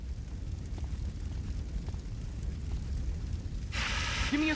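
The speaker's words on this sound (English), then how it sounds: "I have to put out more fire." A roaring fire in the GTA video game, a continuous low rumbling crackle throughout that swells into a louder, harsher burst near the end.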